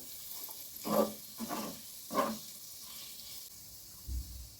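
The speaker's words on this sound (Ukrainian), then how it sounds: "Трошки обсмажую, щоб спеції гарно розкрили свій аромат" Spices sizzling and stirred in butter in a hot pan, three bursts of crackling fry with steady background hiss and a soft thump at the end.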